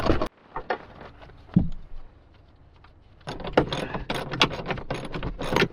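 A hand ratchet clicks in short bursts while 12 mm seat bracket bolts are removed from a car, with metallic rattles and clanks, a quiet pause, then a longer run of rapid close clicking.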